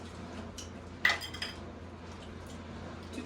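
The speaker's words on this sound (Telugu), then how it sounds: "గిన్నె కూడా కింద పెట్టుకో" A metal bowl set down on the floor at home makes a single sharp clank, faint scraping around it and no talk.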